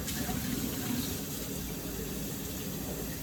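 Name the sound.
water poured into a jar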